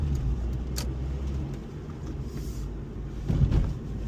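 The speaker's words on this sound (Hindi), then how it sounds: "मैं पूरा मीटर से हाई रविंग इंजन करके दिखाता हूँ।" An Acura RSX with a VTEC engine, heard as a steady, loud engine drone with road rumble and a slight swell near the end, without a clear climb in revs.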